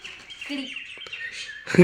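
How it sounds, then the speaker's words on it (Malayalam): Bright, high chirping bird calls repeat through the clip, several birds calling at once, with a louder burst of calls right at the end. "പക്ഷികളെല്ലാം വിളിച്ചുകൊണ്ടിരിക്കുന്നുണ്ട്"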